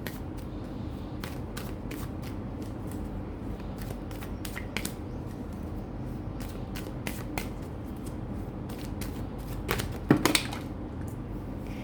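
Tarot cards are shuffled and handled close by in a quiet room, giving a series of soft, irregular papery flicks and taps throughout, with a slightly louder clatter near the end and no speech.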